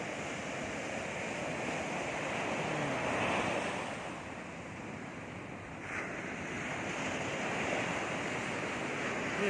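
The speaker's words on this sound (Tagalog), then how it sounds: "yung naririnig mo yung tunog ng alon" Ocean waves wash steadily onto the shore, a continuous broad roar with swells rising and falling, mixed with gusty wind buffeting the microphone; no voices.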